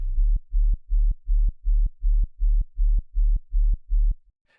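Pulsing sub-bass tone sitting around 40 to 80 Hz, played as about eleven evenly spaced, loud sustained hits with short gaps, each ending in a brief click, heard alone.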